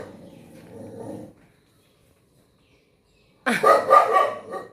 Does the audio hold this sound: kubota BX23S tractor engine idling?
no